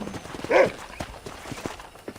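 Horse hooves clopping while herding cattle in the Western game Red Dead Redemption, a soft irregular patter of steps with one louder burst, close by, with no talk.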